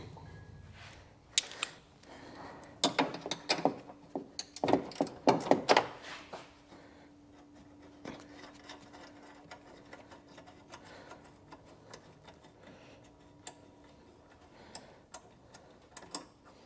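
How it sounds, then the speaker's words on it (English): A hose clamp loosened on a Perrin intake for a 2022-2024 Subaru WRX, a burst of rapid metallic clicks from a ratcheting tool, then sparse faint ticks over a low steady hum. "We're going to loosen this hose clamp."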